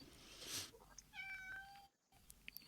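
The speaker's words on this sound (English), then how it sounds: "But that's my cat." A cat meows once, a clear drawn-out call with a rising then steady tone lasting under a second, close and fairly loud, followed by a brief silence and faint room noise; nobody speaks.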